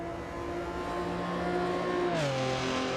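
Porsche race car engine in the Assetto Corsa EVO racing game, a steady droning tone that holds, then drops in pitch as the car shifts or eases off near the end, with no talk over it.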